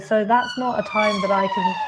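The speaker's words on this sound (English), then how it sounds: "Sorry about the sirens" Police car sirens wail in rising and falling tones close by on a lively Finsbury Park street at night, loud and continuous, while someone speaks briefly over them.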